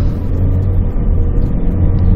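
A car engine treated with a Finish Motor product runs under acceleration, a loud close low rumble that holds steady and even throughout. No voices.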